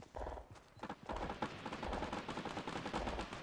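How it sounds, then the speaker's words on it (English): Gunfire in the video game Fortnite, with rapid bursts of shots rattling in quick succession, fairly loud and continuous across the clip, with no talking. "Ooh, y'all are getting shot at."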